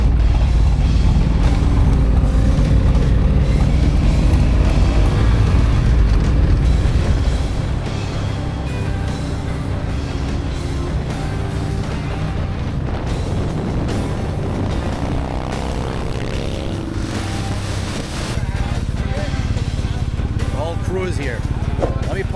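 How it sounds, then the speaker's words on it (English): Motorcycles out on a group ride, a BMW GS and a Harley CVO, give a steady, loud engine drone and wind rush that runs continuously throughout, with no clear talk over it. "We're going out for a ride. I'm on his bike, on his GS, coming with his CVO."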